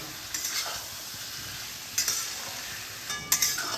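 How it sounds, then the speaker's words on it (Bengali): Fried potatoes being cooked down with spice masala in a pan for a vegetarian aloo dum, giving a soft, even sizzle with three brief scraping stir strokes. "ভেজে রাখা আলুগুলোকেও এই মশলার সঙ্গে 2 মিনিট মতো কষিয়ে নেব"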